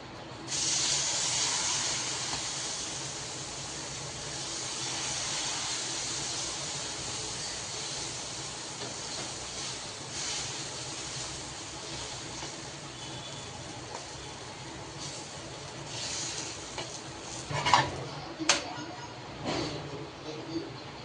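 A besan chilla fries on an oiled hot tava, giving a steady, soft hiss and sizzle throughout with a few sharper clicks and crackles near the end, while a voice talks over it.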